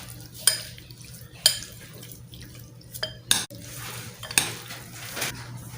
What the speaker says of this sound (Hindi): अभी मिक्स कर लेते हैं